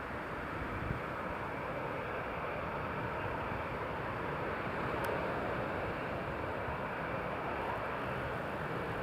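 Airliner arriving at Newcastle International Airport during Storm Lilian, heard as a steady broadband engine roar blended with gusting wind buffeting the microphone, continuous and fairly loud throughout with no speech.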